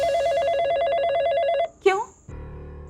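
A telephone rings with a rapid repeating electronic trill, then stops abruptly, followed by a short chirp and quieter background noise.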